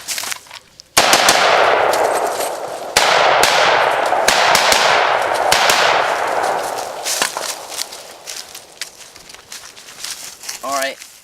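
Repeated gunshots ring out at a shooting practice, sharp loud cracks at irregular intervals with metallic clangs and ringing decay, later growing sparser as footsteps and shuffling take over.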